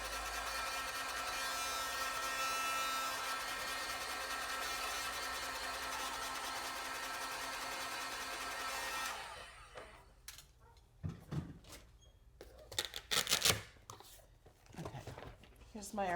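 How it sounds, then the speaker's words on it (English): A heat gun blowing to dry stamped ink on a card, a loud steady roar that cuts off partway through, followed by scattered handling noises and clatter. "I'm going to heat set this with my heat gun"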